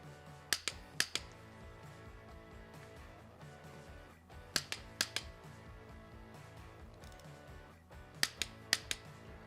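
A torque wrench clicks as S&S cam chest bolts are tightened on a motorcycle engine, giving three tight clusters of sharp, close metallic clicks over a faint background.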